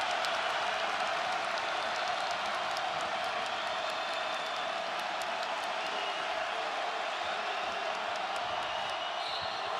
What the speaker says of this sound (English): Eugene Omoruyi's got this crowd going again. Listen to these fans